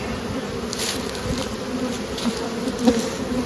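A dense, steady hum of agitated honey bees fills the air around swarm frames. Buzzing stays close and continuous with no voices.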